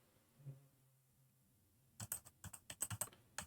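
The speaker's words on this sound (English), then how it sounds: "The only sound in the room was of Daru's fingers on the keys" Keyboard typing sound effect from the Steins;Gate 0 video game: near silence, then a quick burst of close, crisp keystrokes in an uneven rapid rhythm.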